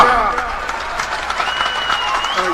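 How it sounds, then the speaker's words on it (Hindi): Applause from a crowd at an election rally in Latehar, a dense, steady wash of clapping under a loud amplified voice speaking over it. "जोर से मारो तालियां।"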